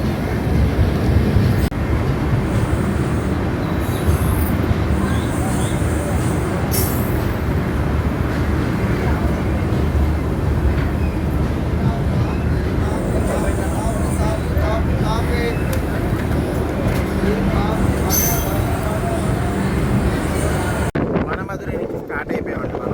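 The Tambaram Express pulls out of Madurai, and a steady, loud rumble of a moving train with wind buffeting the microphone continues throughout.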